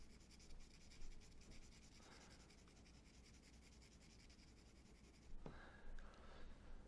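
Soft, faint scratchy rubbing of a 2H pencil shading across paper for a drawing of an eye, continuous light strokes close to the microphone.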